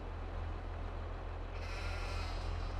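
Sheep bleat faintly inside a farm pen in the Farming Simulator 22 video game, the calls sitting over a steady low engine hum from a farm vehicle, with no one talking.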